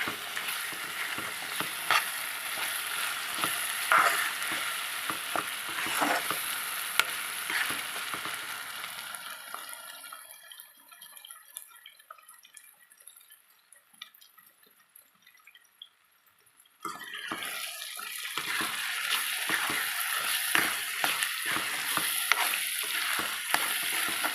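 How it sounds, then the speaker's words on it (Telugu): Tomato pickle frying and being stirred in hot oil, a steady close sizzle with stirring scrapes that drops to a quieter simmer midway before the loud frying returns. "బాగా వాడనివ్వాలండి పచ్చడి నూనెలో వాడి వాడితే బాగుంటుంది"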